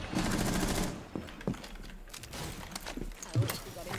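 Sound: gunfire in the video game Rainbow Six Siege

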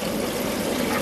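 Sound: spa water jets running

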